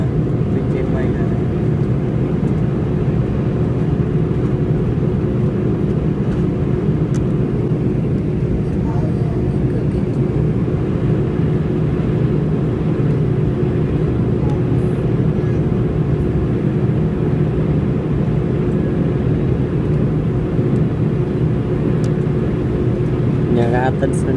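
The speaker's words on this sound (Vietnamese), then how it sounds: "máy bay cất cánh trời mưa to" An airplane takes off from Tan Son Nhat airport in Ho Chi Minh City during heavy, wind-driven rain, giving a steady, loud low roar that holds for the whole stretch with no break.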